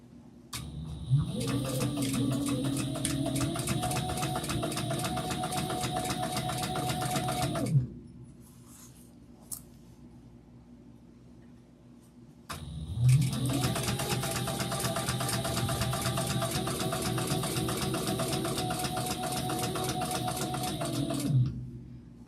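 A sewing machine stitches a Noodlehead Oxbow tote bag in two long, steady runs of close, loud whirring, split by a quiet pause of a few seconds.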